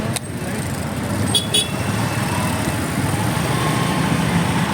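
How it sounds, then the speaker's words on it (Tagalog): Road traffic rumbles steadily close by with passing cars, and a brief double horn toot sounds early on over the continuous engine noise. "medyo traffic nga ngayon"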